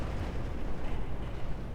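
Off-map 105mm artillery strike in a wargame, heard as a continuous, dense rumble of blasts and explosions with no clear gaps, steady and loud throughout.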